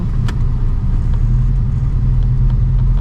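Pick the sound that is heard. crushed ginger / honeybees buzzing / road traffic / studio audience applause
road traffic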